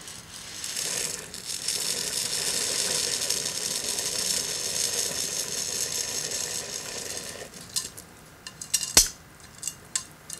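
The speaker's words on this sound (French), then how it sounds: "nous allons y verser les pâtes." Dry pasta pours steadily into a metal pot for a Belgian black pudding soup, a continuous rattling hiss for several seconds, then scattered clinks and knocks as the pouring stops.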